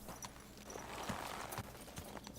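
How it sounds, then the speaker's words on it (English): Horse hooves clip-clop steadily at close range in the medieval game Kingdom Come: Deliverance, a soft rhythmic clatter of footfalls over a busy ambient background. "Oh, my horse is over here."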